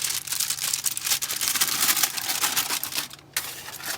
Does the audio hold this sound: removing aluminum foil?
yes